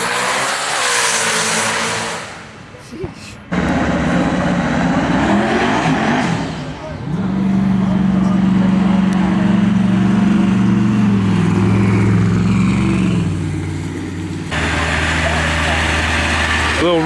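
Dodge Hellcat Challenger making an eighth-mile drag pass at a Houston street car meet, a loud sustained engine roar that swells and shifts pitch as it runs down the track, with crowd noise and talk around it.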